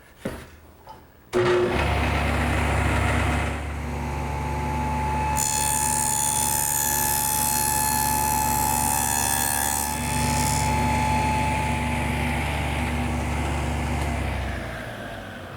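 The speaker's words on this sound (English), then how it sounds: "So now I'll just plow out that dado." A dado head blade on a table saw plows a 3/8-inch-deep dado in a wooden workpiece fed slowly along the fence. A loud, steady whining cut starts abruptly and runs for about thirteen seconds before winding down.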